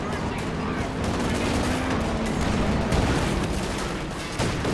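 Osvin cannon in a strategy video game firing a rapid string of rounds, dense repeated gunfire thudding continuously under someone talking and counting along.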